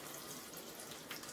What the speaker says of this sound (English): we're going to take this right to the water